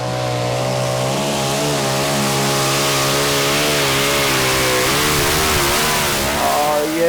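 Wicked Screaming, a Dutch pulling tractor among Europe's strongest, roars through a full pull at the 2016 Eurocup tractor pulling finals in Brande, Denmark: a loud, close, unbroken engine scream whose pitch climbs and wavers as it drives down the track.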